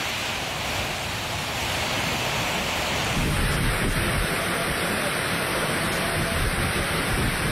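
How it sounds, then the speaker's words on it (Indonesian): Heavy rain driven by strong storm winds lashing the city of Jember, East Java, forms a loud, steady roaring wash of water and wind that runs unbroken from start to end. "Video amatir merekam saat hujan deras disertai angin ribut melanda kota Jember"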